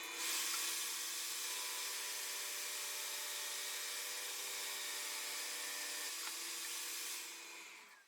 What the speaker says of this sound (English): I'll run that through the thickness sander and we'll know exactly where the low spots are.